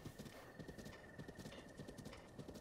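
Horse hooves in The Legend of Zelda: Breath of the Wild, a quiet, steady rhythmic clip-clop of trotting repeated across the whole moment, with a faint tonal hum and wind-like ambience behind it.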